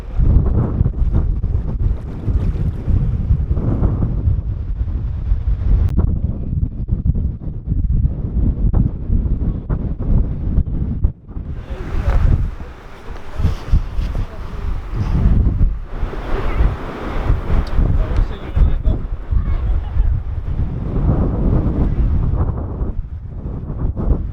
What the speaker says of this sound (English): Oh, it's windy though.